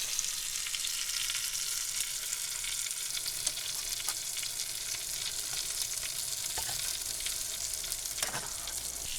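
Potatoes fry in butter in a pan on a van stove, giving a soft continuous hiss and faint crackle, with a few light scrapes of stirring, fairly quiet and close, and no speech.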